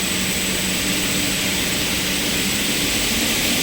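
A straight line wire drawing machine ramps up to 5 meters per second, giving a loud, steady broadband whir with a constant high tone, filling the whole stretch without voices.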